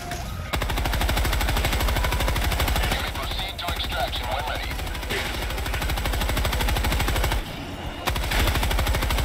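Sustained automatic gunfire in the video game Helldivers 2, loud and dense, hammering rapidly almost without pause for nine seconds apart from a brief gap near the start and another near the end.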